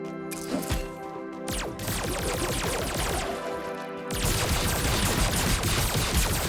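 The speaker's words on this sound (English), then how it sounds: "there's going to be a lot of bleeding and exploding enemies" Enemies bursting and exploding in the Turbo Kid video game: rapid, dense blasts and splattering crashes layered over loud game music, with a sharp jump in intensity partway through.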